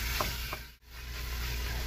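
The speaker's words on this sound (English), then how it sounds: "we're gonna continue cooking until our beef is all cooked all the way through, no pink remains" Ground beef sizzles steadily in a pan as it is broken up and browned, with a continuous frying hiss and a couple of soft stirring scrapes near the start, then a brief dip before the sizzle resumes.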